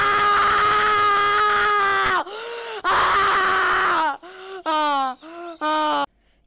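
A man screams loudly in long, strained wails imitating a screaming goat, one sustained howl followed by several shorter bleating yells, very close and raw.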